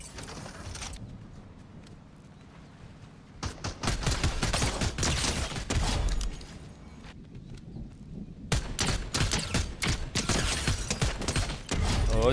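Gunfire in Fortnite Zero Build, bursts of sharp shots mixed with mechanical clicks and reload rattles, with quieter gaps between volleys.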